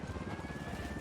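A helicopter in the Ghost Recon Wildlands video game gives off a steady, continuous rotor drone at moderate level, throbbing quickly and evenly for about a second, with faint game ambience underneath.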